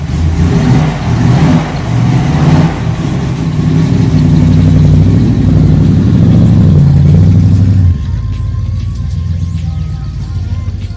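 A 1974 Holden LH Torana SLR 5000 tribute engine idles with a deep, loud rumble and revs up and down several times, then settles back to a quieter idle.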